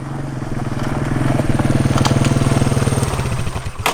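Small stock Tillotson engine on a mini bike fitted with a stage 1 kit, revving loudly and steadily nearby with a rapid pulsing exhaust note for most of the stretch, then wavering and dropping off near the end.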